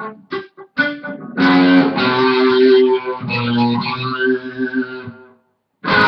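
Distorted electric guitar riff, sustained chords and arpeggiated notes ringing loudly for about four seconds after a few short muted plucks, then fading out.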